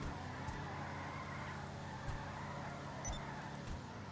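A 1970 Plymouth Roadrunner drives in GTA Online, its engine a steady low rumble running throughout with a few faint clicks on top, moderately loud and with no one talking.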